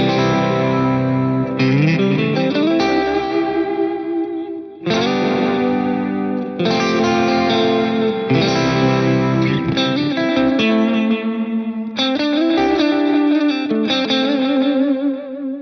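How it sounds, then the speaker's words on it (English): Electric guitar chords and notes played through a BOSS GT-1000 ring out with a drifting ambient echo delay, each strum smearing into long repeating tails over about fifteen seconds, loud and unaccompanied. "I'm using the bin drum echo, so like an Echo style thing for just an ambient style delay."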